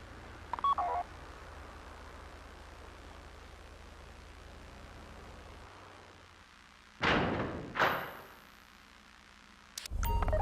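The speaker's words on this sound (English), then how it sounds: "Take out your phone and trigger the door." In GTA V Online, a phone is dialed to trigger a bank vault door: a brief beep opens, then after a quiet stretch come two short loud tonal bursts and a final sharp sound, all fairly faint.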